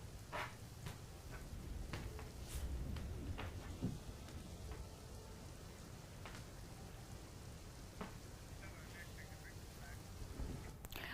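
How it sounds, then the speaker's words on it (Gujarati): Heavy monsoon rain falls around Kim in Olpad, Gujarat, a continuous hiss of downpour with scattered louder spatters and drips, fairly faint and steady throughout. "ઓલપાડના કીમ સહિત આજુબાજુના વિસ્તારોમાં ભારે વરસાદ."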